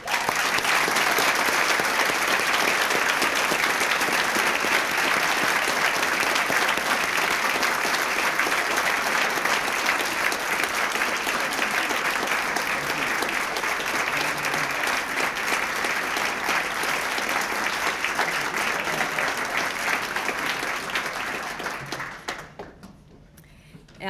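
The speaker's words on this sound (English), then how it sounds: "join me in giving a big round of applause to all the teachers" Sustained audience applause for teachers at a school excellence celebration, a dense wash of clapping from a large crowd that holds steady for about twenty seconds before tapering off at the end.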